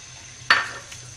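Sliced onions hit hot ghee in a pan, giving one sudden sharp sizzle that flares up loudly and then fades into a quieter hiss within a second.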